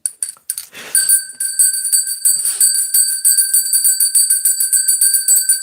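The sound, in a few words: bell being rung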